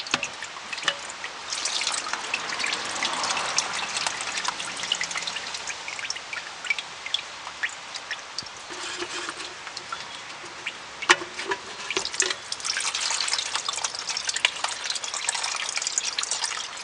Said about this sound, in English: I believe this is just siphoning out of the tank right now